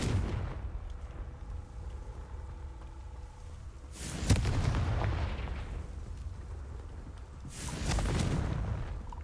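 Confringo fire spells burst in the video game Hogwarts Legacy, two loud booming explosions a few seconds apart, each followed by a rumbling, crackling decay over a low background drone.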